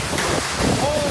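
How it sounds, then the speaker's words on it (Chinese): Huge typhoon-driven waves sweep a coastal road, heard as a loud, steady broadband roar of surf and gusting wind that fills the whole stretch without a break. "恐怖大浪席卷沿海的道路"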